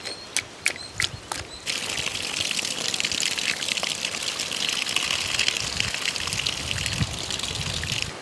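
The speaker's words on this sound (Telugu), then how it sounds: "ఈ కాలీఫ్లవర్ ముక్కల్ని శుభ్రంగా చూసుకుని కడుక్కోవాలండి." Cauliflower pieces washed under running water in a kitchen: a few light clinks and taps, then a steady loud gush of water pours continuously with faint splashes of the pieces being rinsed.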